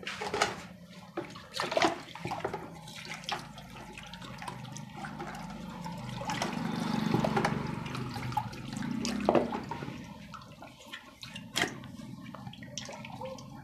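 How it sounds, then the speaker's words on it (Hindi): Water splashes and pours over a submersible pump impeller during washing, with irregular close splashes and running water across the clip and a fuller gush in the middle. "इसे पानी की मदद से पहले अच्छे तरीक़े से धो लें।"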